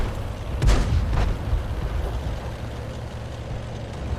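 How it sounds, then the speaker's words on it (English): An artillery strike in World of Tanks lands as a heavy close boom followed by a second blast, with rumbling engine noise continuing underneath. "Not surprised by that artillery strike."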